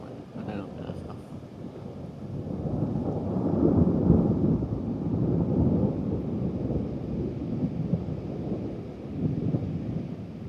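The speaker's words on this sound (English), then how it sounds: "Longest thunder ever." Long, deep thunder rolls on and off through a strong thunderstorm with high winds, a heavy low rumble swelling and fading over about ten seconds amid wind buffeting the microphone.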